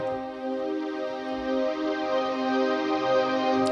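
A sustained synthesized string chord, smooth and steady, holding at moderate volume without any other sounds.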